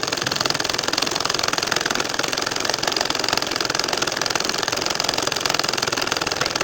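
A domestic sewing machine stitches a nakshi kantha quilt at home: a continuous, fast mechanical whirring and rapid needle clatter, steady and fairly loud throughout with no pauses.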